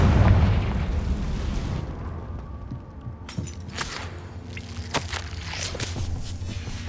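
A Confringo fire curse cast in Hogwarts Legacy lands as a loud, close blast, then settles into a lower rumble with a scatter of sharp pops and crackles.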